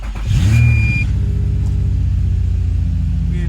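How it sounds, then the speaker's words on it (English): An Infiniti G35 with a freshly swapped automatic transmission cranks briefly and catches, settling into a loud, steady idle rumble close by, with no talk. "Time to refill the fluids, fire this thing up. All right, first crank."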